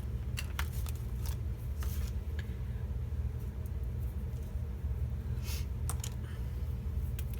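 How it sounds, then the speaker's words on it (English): Scissors snip through adhesive foam for a scrapbook layout, a series of short crisp cuts and rustles over a low steady room hum. "With designated foam scissors or adhesive scissors."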